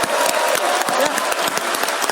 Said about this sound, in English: let's have another big round of applause for all of our presenters